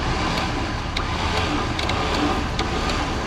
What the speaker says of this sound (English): we're gonna tow him off with the Jeep